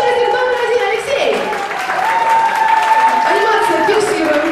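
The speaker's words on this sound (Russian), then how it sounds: "Аплодисменты, выходите, вперед ушедший номер один" Applause for a contestant at a rap contest, with steady clapping running under loud, tonal music and a voice over the top.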